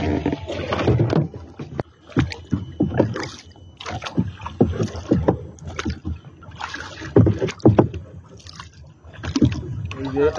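A boat is rowed on a river on a rainy winter day, with uneven bursts of paddle strokes and water sloshing, wind buffeting the microphone, and muffled voices at times.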